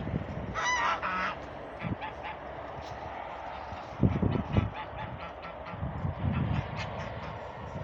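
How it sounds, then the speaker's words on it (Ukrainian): Geese honk in loud bursts, some close and some farther off, with scattered rustling and shuffling between calls. "Цих гусей погнав, будуть летати зараз"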